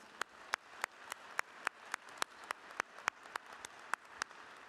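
At a Hofstra University inauguration ceremony, a round of applause for drama and dance students comes across as steady, evenly spaced claps over a soft crowd wash, fairly faint and distant.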